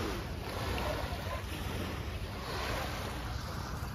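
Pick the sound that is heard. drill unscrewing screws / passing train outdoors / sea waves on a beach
sea waves on a beach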